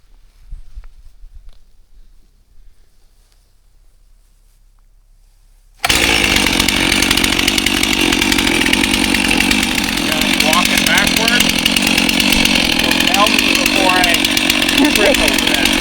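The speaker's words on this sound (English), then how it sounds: "cutting a vertical line the whole length of the log with the chainsaw" A chainsaw rips a lengthwise cut along a log for carving coop posts and beams, bursting in loud and close after quiet, then roaring steadily with slight pitch shifts as it bites.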